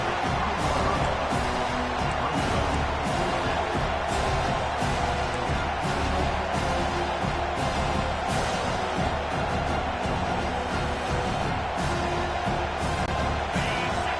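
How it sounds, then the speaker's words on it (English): Home crowd at a Nebraska Huskers football game roars steadily and loudly throughout a tense late fourth-down play, a dense wall of stadium noise with faint commentary mixed beneath. "this crowd is rising to the occasion"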